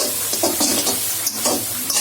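Sausages sizzling in a hot pan as a utensil stirs and scrapes them, crackling bright frying noise with irregular scraping strokes, close and alone without speech.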